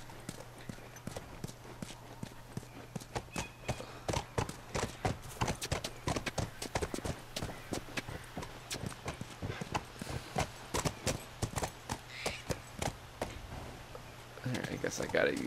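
Horse hooves clip-clop in The Last of Us video game, a long run of sharp, evenly spaced hoofbeats with an occasional whinny, a steady hum underneath and a voice talking over parts of it.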